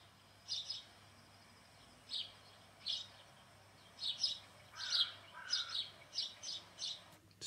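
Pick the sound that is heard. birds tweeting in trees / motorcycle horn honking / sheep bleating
birds tweeting in trees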